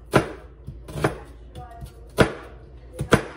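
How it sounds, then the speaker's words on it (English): A knife slices through an onion on a cutting board, giving four or five sharp, close chopping strokes spaced unevenly over a few seconds, with light background noise between cuts. "we're gonna slice through the onion"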